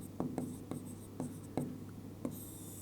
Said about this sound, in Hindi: सबसे पहले इसका फॉर्मूला लिखते हैं